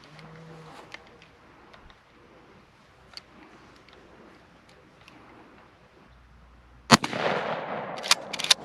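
A single loud, sharp blast from a Browning BPS 20 gauge pump shotgun fitted with a modified choke, fired outdoors after a quiet stretch, followed by a brief echoing tail and faint movement sounds.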